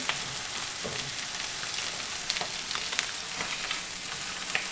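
Pesto chicken sautéing in a hot pan and being tossed, giving a dense, even sizzle with small crackles and occasional clicks close by and no speech.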